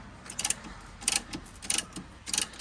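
A spring compressor is tightened on a Land Rover Discovery 2's suspension during a lift install, producing short bursts of metallic ratchet clicks in four evenly spaced rounds, close and without talking.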